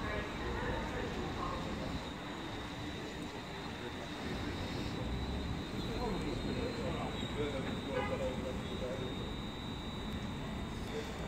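A London Midland Class 350 electric multiple unit departs a station, a steady loud mechanical rumble and whine building continuously with a faint high tone above.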